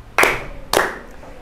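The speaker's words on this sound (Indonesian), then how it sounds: "silakan tepuk tangan 2 kali." A classroom group claps their hands twice in unison, two sharp, close bursts about half a second apart with a short fading tail after each.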